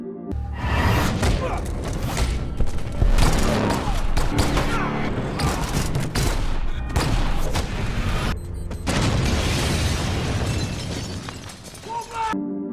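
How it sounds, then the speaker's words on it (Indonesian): A dense action scene from the film Total Recall, with rapid gunfire, crashes and shattering mixed with dramatic score and voices, loud and continuous with a brief lull midway. "Dengan cepat, pria itu menembak mati puluhan petugas dan langsung melarikan diri."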